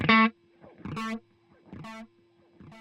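Guitar notes pass through the gritty analog-style delay algorithm of an IK Multimedia X-Time pedal, each plucked tone followed by dirty, fading repeats that trail off between phrases.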